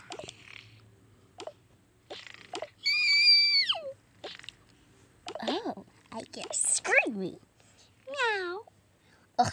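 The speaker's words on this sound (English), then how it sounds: "That's just a stupid cat stuck in there." A cat trapped inside something lets out a series of drawn-out, wavering meows with short silent gaps between them, near and fairly loud.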